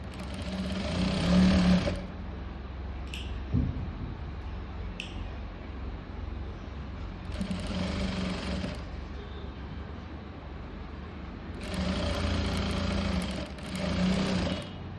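A sewing machine stitches an umbrella frock in three whirring bursts of rapid needle clatter, with quieter pauses and light handling of the fabric between runs.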